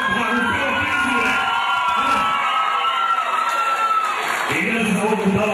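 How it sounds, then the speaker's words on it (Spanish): Crowd shouting, cheering and applauding for a person on stage at an event: a dense, continuous roar of voices, whoops and clapping that stays loud throughout with no pause. "Fuerte los gritos y los aplausos para Gustavo Príncipe"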